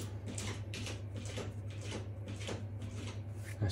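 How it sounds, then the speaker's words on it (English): A cat scratching nearby, giving a series of quick, regular rasping strokes that repeat throughout over a low background hum, with no talking. "That's my cat scratching."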